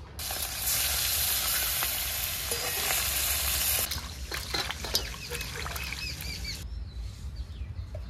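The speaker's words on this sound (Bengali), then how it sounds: "তেলটা গরম হলে পুঁটি মাছগুলো রান্নার জন্য ভেজে নেবো" Puti fish frying in hot mustard oil in a wok: a loud, dense sizzle for about four seconds, then thinning into scattered crackles and pops, with no talking.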